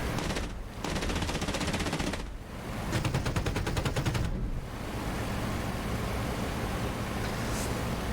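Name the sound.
machine guns and cannon in video game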